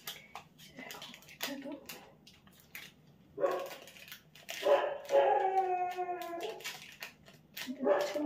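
Several dogs bark and howl in drawn-out, wavering cries, faint at first and then louder and sustained, with a person speaking now and then.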